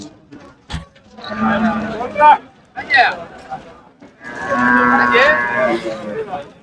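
Cattle mooing at the Manapparai cattle market, with several loud, drawn-out lowing calls separated by short pauses, over market chatter and voices in the background.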